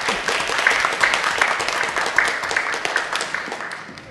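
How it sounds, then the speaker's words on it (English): A conference audience applauds a panel of speakers, a moderate burst of scattered clapping that fades slightly over a few seconds. "Let's give all of our panelists a round of applause."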